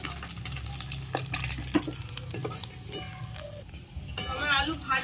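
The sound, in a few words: fish frying in oil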